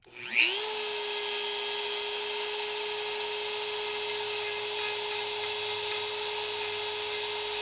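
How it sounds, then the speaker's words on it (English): A Dremel rotary tool grinds down a steel screw on a toy figure, spinning up quickly and then holding a loud, steady high-pitched whine throughout. "I will Dremel this thing down until it's basically until I start hitting the plastic a little bit"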